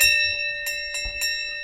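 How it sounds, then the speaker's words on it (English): An old handheld school bell rung a few times in quick succession, bright metallic strikes close by over a sustained ringing tone. "That's an old school bell."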